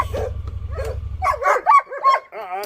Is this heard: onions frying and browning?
no